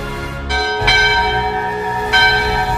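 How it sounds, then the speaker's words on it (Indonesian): A large bell rings out loud and clear, struck three times with long, shimmering overtones that hang and overlap between strikes, with no voices present. "ini suara lonceng dari arah tempat pelatihan tertutup Master Pedang"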